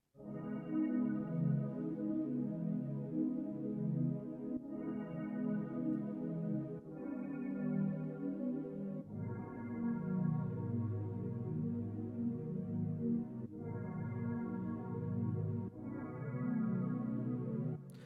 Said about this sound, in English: the name of that synth in the analog is called PS2